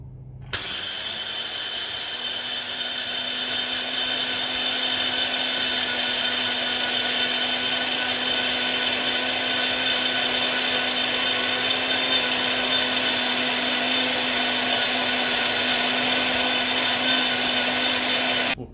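Grain mill grinding grain into flour, a loud continuous grinding roar with a steady hum running unbroken for nearly nineteen seconds, close and alone without any speech.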